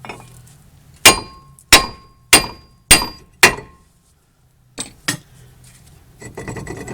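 A hammer clangs hard against a front brake rotor on a 2006 Mazda 3 five times in a steady rhythm, each ringing strike sharp and close, then two lighter taps and some shuffling.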